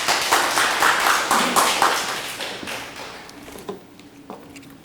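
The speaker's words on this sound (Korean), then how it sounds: "여러분 큰 박수로 모시겠습니다." Audience applause welcoming a speaker at a conference session, a dense burst of many hands clapping that is loud at first, then fades and thins into a few scattered claps.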